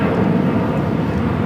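Turkish Airlines airliner taxiing toward the gates at LAX Tom Bradley terminal, a steady low engine rumble heard from a distance, continuous and unbroken with no talk.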